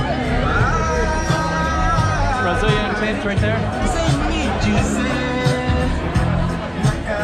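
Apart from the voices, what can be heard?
festival crowd at Lusofonia Festival in Macau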